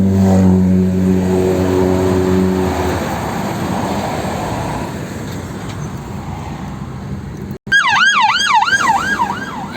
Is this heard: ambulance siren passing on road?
yes